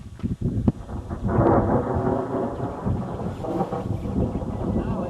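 Close thunder from nearby lightning near Geraldton, Western Australia, booms and rolls loudly for several seconds after a couple of sharp cracks, with rain and wind noise underneath.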